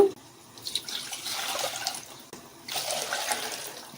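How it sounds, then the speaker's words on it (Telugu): Water is poured from a glass onto rice in a pot for chicken biryani, in two close, splashing pours with a short gap between them. "3 గ్లాసులు నీళ్లు పోసుకోవాలి."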